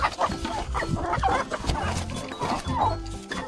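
Several chickens, three roosters and three hens in a backyard coop on a hot day, cluck and murmur close by in uneven bursts, with no crowing standing out.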